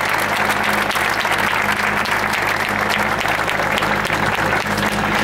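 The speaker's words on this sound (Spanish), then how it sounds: "Y un fuerte aplauso para los invitados" A crowd at a Podemos election rally in Santander, Cantabria, claps loudly for the guests, a thick, constant roar of applause with no pauses, close and strong throughout.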